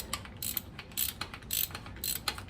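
A ratchet wrench clicks in quick, uneven bursts while loosening a bolt on a 1955 Buick Special during an LS swap, close and moderately quiet, with no talk.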